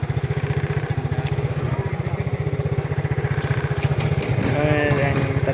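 A small motor tricycle engine putters steadily close by with a fast, even beat, its pitch shifting near the end as it moves past; faint voices underneath.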